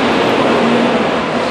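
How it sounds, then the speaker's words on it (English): Steady, loud broadband rumble of a moving Japanese bullet train heard from inside the carriage, with an even hum and no talking. "Here we are on our first bullet train."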